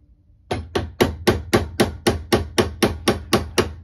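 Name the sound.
hammer tapping a dowel to drift a Kimber K6s sight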